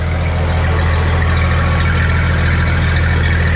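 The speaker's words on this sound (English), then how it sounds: "That's the power steering pump you're hearing." The power steering pump of a Kenworth G900 truck whines steadily under the loud, constant rumble of the idling diesel engine, close and continuous with no talk.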